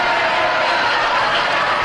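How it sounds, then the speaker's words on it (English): A crowd cheers in a steady, dense roar of many voices, sustained and fairly loud without a break. "a cheer goes up from the crowd"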